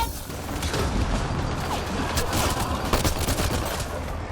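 Rapid gunfire in the sci-fi shooter Mass Effect Andromeda during a firefight, dense overlapping bursts and shots over a rumbling backdrop with no pauses.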